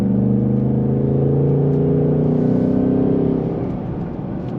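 The V8 engine of a 2024 Ford Mustang GT Premium with a manual gearbox rises from the cabin as the car accelerates. It revs loud and close through a climbing pitch for several seconds, then eases off, with no talk.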